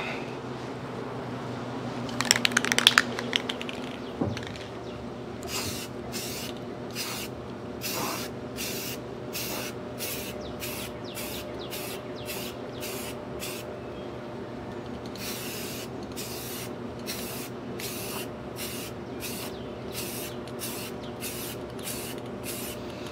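Spray paint is applied crudely to car parts in a series of short, close hissing bursts in a rapid irregular rhythm, with some handling clatter before the spraying starts.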